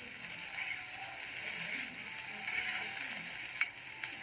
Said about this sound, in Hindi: उसको बहुत लाइट ब्राउन होने तक हम भूनेंगे